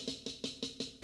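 Drum kit playing part of a paradiddle-diddle rudiment with the kick taking the last note, heard as five evenly spaced, close strokes about a fifth of a second apart, each pairing a low thump with a bright crack.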